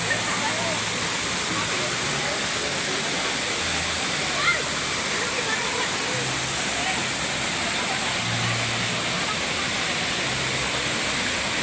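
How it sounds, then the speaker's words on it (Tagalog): Laguna Falls in Perez, Palawan roars as a steady, loud, broadband rush of falling water, close and unbroken throughout, with voices faintly present beneath the noise. "dito po kami sa Palawan, Laguna Falls"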